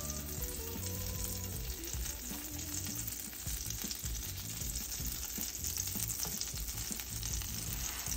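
A seafood grilled cheese sandwich sizzles steadily in a hot skillet, a dense, even crackle of frying butter and bread that continues without pause and with no talking.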